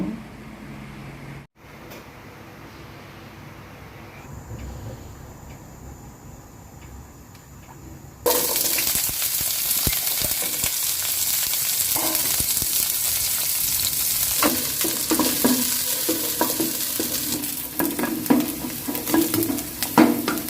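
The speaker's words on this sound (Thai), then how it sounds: "ผัดใส่พริกแห้ง" Macaroni with dried chili and garlic is tossed into a hot pan and sizzles loudly, with scraping stirs and a steady crackling fry after a quieter start.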